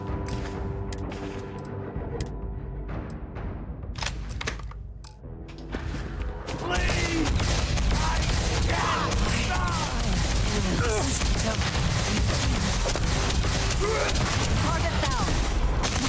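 An EM rifle fired at a Terramorph in Starfield, a dense run of rapid shots and mechanical clatter erupting after a quieter stretch of tense ambience, loud and continuous with voices over it.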